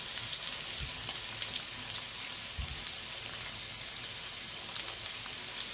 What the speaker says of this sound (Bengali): আলুগুলো একটু ভেজে নিই সুন্দর করে।